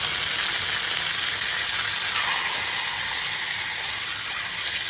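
Food frying in hot bacon grease in a pan, a loud, steady close-up sizzle and hiss that holds without a break.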